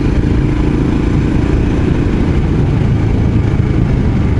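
A Royal Enfield Scram 411 motorcycle cruising on a country road ride, with a steady, loud engine drone and heavy wind rush throughout, without clear changes in revs.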